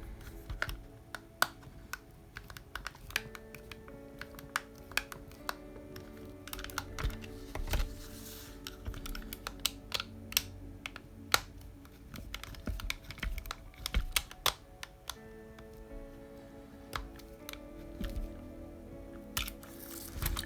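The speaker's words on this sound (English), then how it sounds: "So let's just tighten these ones down now." Screws tightened into the side bumpers of a Tamiya BBX RC car on a BB-01 chassis produce faint, close, irregular plastic clicks and small scraping ticks from the driver, with no talking.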